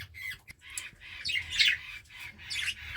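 Budgerigars in a breeding setup give short squawks and chirps in brief bursts, close and fairly soft, with quiet gaps between calls.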